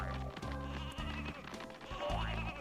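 Repeated sheep bleats from the video game Space Station Silicon Valley, a run of several loud, wavering calls close by over a steady game soundtrack, with no talk.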